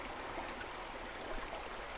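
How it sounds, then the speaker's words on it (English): A small side stream of the Trent River on Vancouver Island flows in a steady, close, broadband wash of rushing water with no voices. "This is a little side stream of the Trent River."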